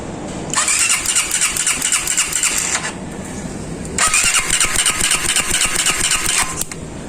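A motorcycle engine cranks repeatedly but does not start, heard as two long, loud, whirring starter bursts close by with a short pause between them.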